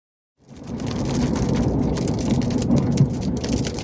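Steady heavy rain pours down in a storm, a dense close hiss with spattering drops that starts abruptly and continues loud and unbroken with no talk.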